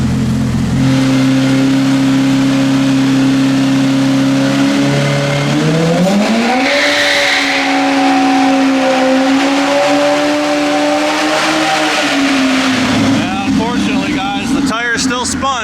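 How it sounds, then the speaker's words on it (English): An Ibexx Turbo Pro R engine on a dyno, held at a steady drone before revving up to wide open throttle and holding high, loud and close, then dropping off at the end. "We're going to do a whole wide open throttle run, hopefully from like 20 to 60 miles an hour"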